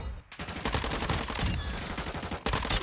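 Rapid automatic gunfire from hip-firing in Call of Duty Warzone bursts continuously with dense overlapping shots and brief gaps, loud and up front.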